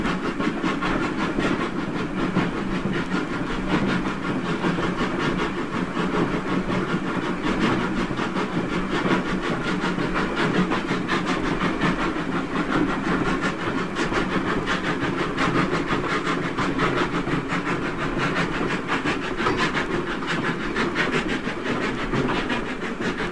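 A model railway train runs steadily around a layout past storage tracks, giving a continuous close rumble with fine rhythmic clatter from the wheels that holds an even level for over twenty seconds, with no voices.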